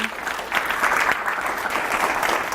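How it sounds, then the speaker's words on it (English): Audience applause fills the hall at the close of an annual lecture, a dense, steady clapping from a full room that holds at the same level throughout. "let's give her a round of applause"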